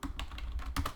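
Computer keyboard typing, a steady run of close, crisp key clicks with no talking.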